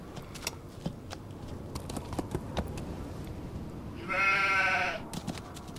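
A single sheep bleat from a video game, Nancy Drew: The Haunting of Castle Malloy, rings out clearly for about a second over scattered clicks and light background noise.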